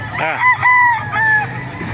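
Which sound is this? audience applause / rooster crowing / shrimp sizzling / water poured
rooster crowing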